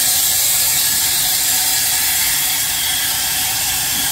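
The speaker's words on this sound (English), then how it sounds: "I'll turn on the blower right here. It's the blower valve." The blower valve on a 20-inch steam engine boiler is opened and releases a loud, steady rushing hiss of steam and air. It sounds close and continuous, with no talking.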